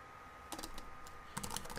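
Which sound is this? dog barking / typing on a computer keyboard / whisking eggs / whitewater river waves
typing on a computer keyboard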